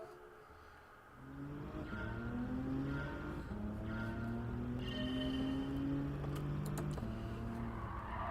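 In the video game Gran Turismo 7, a Genesis G70 laps Brands Hatch GP, its engine droning steadily with rising and falling pitch as gears change, sounding continuous and fairly loud with faint clicks late on.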